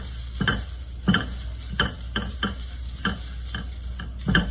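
Grated coconut stirred and roasted in a pan, a spoon scraping in irregular distinct strokes over a faint sizzle, close and fairly quiet.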